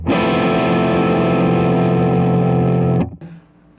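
A guitar is played through an Alexander Princess Clang pedal with the treble turned all the way down, giving a loud, dark, fuzzy sustained chord that rings for about three seconds, then cuts off before a short new attack.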